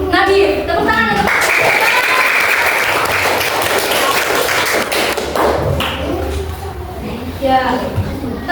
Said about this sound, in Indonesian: Oke, kita beri aplaus untuk Nadir.